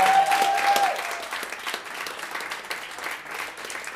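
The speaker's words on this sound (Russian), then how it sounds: "поддержите нас, пожалуйста, вашими аплодисментами" Audience applause at a live music show, a dense burst of clapping that starts loud and settles to a steady, slightly softer patter.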